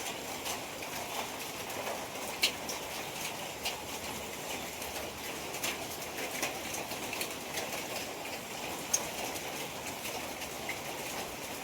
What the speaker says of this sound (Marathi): पाऊस पडता बघा भयंकर